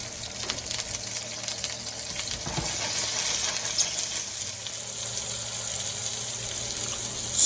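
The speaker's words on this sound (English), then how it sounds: "Now we're adding in our shallots, a little tomatoes, and some garlic." Shallots, tomatoes and garlic frying in olive oil in a pan, giving a steady bright hiss that swells slightly partway through, close and fairly loud with no talking.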